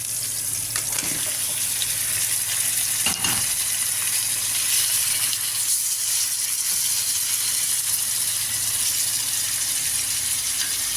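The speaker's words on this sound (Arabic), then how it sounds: "بعد ما حمسنا شوية ثوم والبصل بالدهن راح نضيف اللحم" Meat frying in fat over sautéed garlic and onion, a continuous bright sizzle that runs steadily throughout, with a few brief clinks and scrapes near the start.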